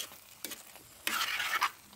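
A spoon stirs roasted coconut with urad dal into a thick kootu curry in a pan, making a few short scraping strokes and a louder stirring burst, close and quiet, with no voices.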